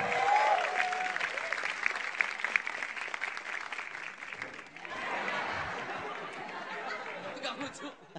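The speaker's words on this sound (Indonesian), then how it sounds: "Kita beri tepuk tangan yang meriah untuk Rico Ceper." A stand-up comedy audience applauds to welcome comedian Rico Ceper, sustained clapping mixed with chatter and scattered chuckles, then a brief dip before the clapping swells again and fades.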